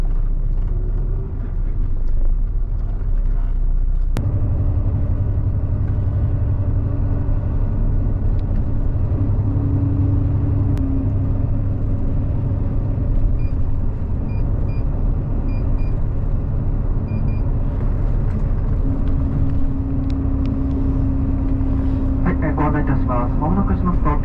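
Inside a Nishitetsu highway bus on the road, the engine and tyres make a loud, steady low rumble that continues throughout, with an onboard announcement voice speaking over it.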